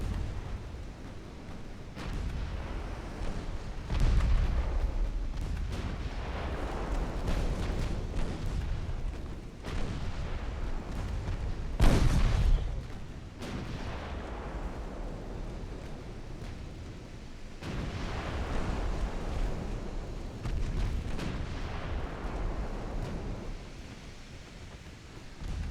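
Battleship main guns firing in Ultimate Admiral Dreadnoughts during a naval battle, a long run of deep, rumbling artillery booms that roll on one after another with a sharper, louder blast near the middle.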